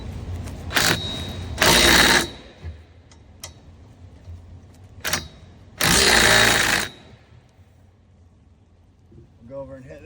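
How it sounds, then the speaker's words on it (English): DeWalt 1/4-inch 20-volt impact driver tightening bolts during a roll bar install in a car: two close, loud bursts of rapid hammering, each about a second long, separated by quieter handling sounds. "just a 1/4 inch 20 volt DeWalt impact"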